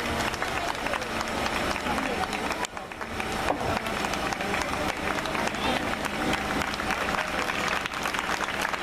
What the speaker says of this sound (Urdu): ان کے بھی زوردار تالیاں بجائیں